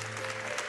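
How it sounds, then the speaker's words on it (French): A concert audience in Corsica claps in a dense, steady wash of applause, brief and even throughout. "on peut l'applaudir"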